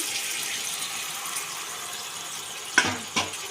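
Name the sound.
warm water poured into pan of chicken curry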